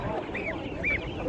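Muscovy ducks at a poultry market in Kyzylorda give two short raspy calls, faint under market chatter and background noise.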